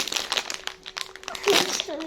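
A bag of Chipsy KFC-flavored potato chips is torn open, giving short crinkly plastic rustles and crackles close up, with people talking over it.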